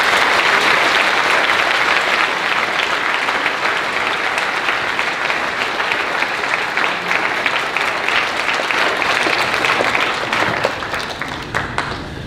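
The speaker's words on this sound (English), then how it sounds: "giving them a big round of applause" A large crowd applauds steadily for several seconds at a school talk, dense clapping that tapers off slightly at the end.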